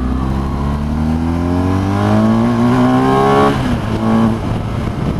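A BMW R1250 GS Adventure motorcycle accelerates hard in second gear, its engine note climbing steadily in pitch for several seconds before a brief drop at a gear change, loud and close with wind rush underneath.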